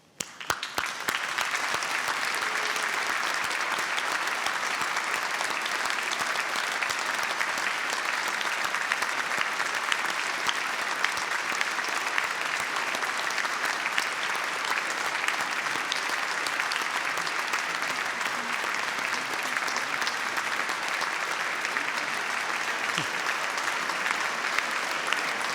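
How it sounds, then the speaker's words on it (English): Steady, sustained applause from a large audience at a University of Manchester graduation ceremony for the new graduates, dense and even throughout with no pauses. "I'm sure all those graduating today understand that the warmth and the applause signifies the"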